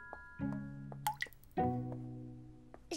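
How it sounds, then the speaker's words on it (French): A few distinct water drips plop one after another from a tap left not fully closed in a cartoon, each with a ringing, bell-like tone in a quiet space. "C'est sûrement quelqu'un qui a mal fermé le robinet."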